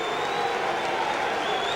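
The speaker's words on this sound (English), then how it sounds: "the rapturous applause rings round this stadium as the Cougars take the field" A stadium crowd applauds steadily as the Keighley Cougars rugby league side take the field for their 1994 fixture at Huddersfield, a dense, continuous wash of clapping with a faint whistle or tone riding above it.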